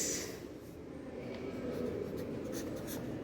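Chalk or marker scratching across a classroom board in a class-5 social studies lesson, a continuous close scraping of writing strokes with a few sharper taps, no talk over it.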